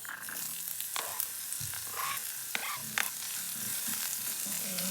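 Chopped onion added to a hot pan of garlic for ginisang monggo with pork, giving a steady crackling sizzle dotted with sharp pops and clicks of utensils, with some quiet talk in the background.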